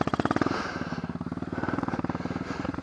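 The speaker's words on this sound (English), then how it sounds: "Get your bike started." An Apollo dirt bike engine runs with a rapid, loud, pulsing putter that sputters and then settles into an even, throbbing idle close by.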